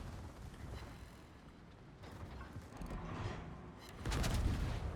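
A warship's front gun firing in World of Warships, with a low rumbling boom swelling near the end over steady ambient engine and sea noise.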